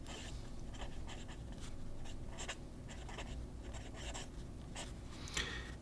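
Fountain pen nib, Delta Dolce Vita Mini, scratching across original Tomoe River paper with black ink, a close, soft scritching in short irregular strokes and pauses, continuous and alone without speech.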